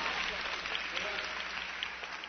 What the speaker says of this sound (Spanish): Excepto este público que se pone de pie a aplaudirte.